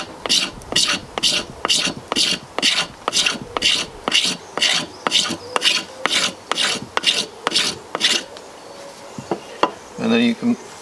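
The back of a knife blade scrapes a ferrocerium rod into fine sawdust-like shavings: about sixteen rhythmic rasping strokes, close and crisp, then a pause and a few softer scrapes and handling sounds.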